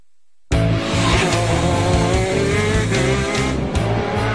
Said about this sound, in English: This Italian-made racing kart, with its one-cylinder 125cc engine, reaches speeds of 180 kilometers per hour.